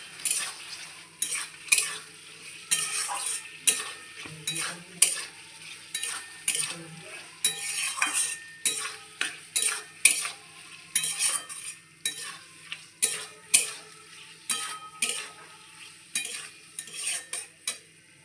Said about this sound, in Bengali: এবার আলুগুলোকে দিয়ে ভালো করে একটু কষিয়ে নেবো।